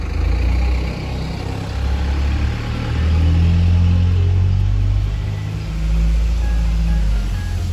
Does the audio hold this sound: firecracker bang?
no